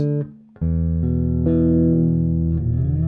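A sustained low, buzzing synth-like bass tone from a Mesa WD800 bass amp with low frequencies around 150 Hz boosted plays alone, thick and heavy in the lows, with a short dip early on before the tone swells back loud and steady.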